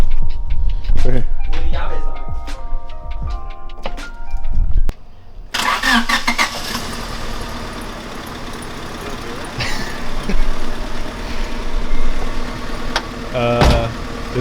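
A Honda Civic engine cranks and catches, then runs with a rough, uneven idle from a misfire. Sharp clicks and knocks come before the start, and people are heard nearby.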